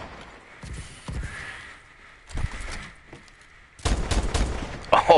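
Sniper rifle fire in the shooter Advanced Warfare, heard as a few distant, muffled shots spaced seconds apart, growing louder and busier toward the end.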